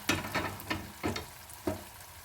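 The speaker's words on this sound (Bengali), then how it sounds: "পনিরগুলো দিয়ে আস্তে আস্তে হালকাভাবে নেড়ে চেড়ে নিতে হবে" Paneer pieces in spiced oil sizzling in a pan while being stirred, with five or six sharp scraping stir strokes over a continuous fry hiss, close and clear.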